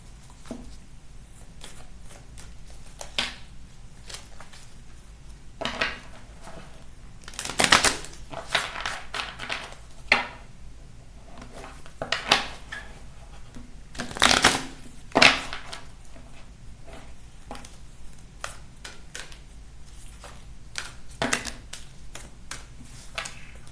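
Bursts of cards being shuffled and riffled, with quiet rustling and tapping between louder flurries, close by.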